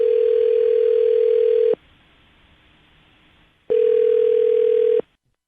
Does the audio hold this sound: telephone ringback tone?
yes